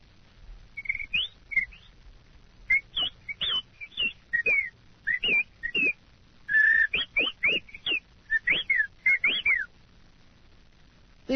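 A man whistles an imitation of a mockingbird, a rapid series of short, varied chirps and trills with brief gaps between them, clear and close, without talking.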